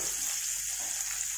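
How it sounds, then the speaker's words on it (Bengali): Sausage frying in hot refined white oil, heard as a continuous, close, hissing sizzle with a steady crackle throughout. "প্রথমে হচ্ছে তোমার এই যে সসেসটা একটুখানি ফ্রাই করে উঠিয়ে নেব"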